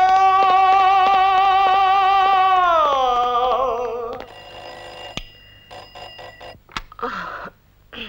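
A telephone in a 1981 setting rings loudly with a repeated electronic trill for about four seconds. The tone then sags and breaks off, followed by scattered clicks and handset clatter.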